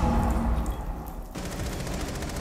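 Rapid gunfire from a shooter video game, a dense burst of shots running through the whole short stretch with a slight break midway, loud and close with no talking.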